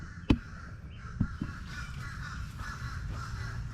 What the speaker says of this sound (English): Sounds like the crows are having a party.